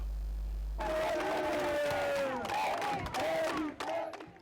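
A crowd in Banjul cheers and shouts to welcome the Guinean president, starting abruptly after a brief low hum, with sustained voices and whistles close and loud, fading near the end.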